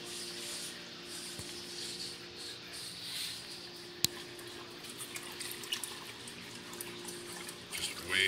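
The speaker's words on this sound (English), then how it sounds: "Just way too much water flow." A wave maker pushes strong water flow through a 125-gallon aquarium, a steady close rushing and bubbling wash with faint drips and splashes throughout, no talking.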